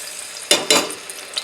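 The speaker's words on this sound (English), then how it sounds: "So we're going to put in 2 things. First, a couple cloves of minced garlic" Minced garlic hits hot peanut oil in a pan for Balinese grilled pork satay, with two sharp sizzling bursts and a faint scrape of stirring between quieter stretches of frying.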